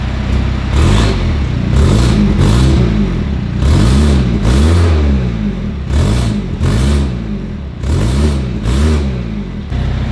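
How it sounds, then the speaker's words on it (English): A BMW 330e fitted with a valved aftermarket exhaust backbox revs repeatedly while up on a ramp, loud close bursts of engine roar rising and falling in a steady rhythm. "So we're gonna give it a few revs while it's on the ramp"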